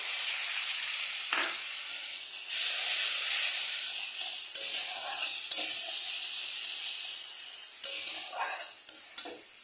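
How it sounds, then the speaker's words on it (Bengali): Chili paste frying in a pan with softened onions and potatoes for a katla fish curry, giving a steady close sizzle with intermittent scraping stirs throughout. "তো আমি এখন এটার মধ্যে লঙ্কা বাটাটা আমি দিয়ে দেবো"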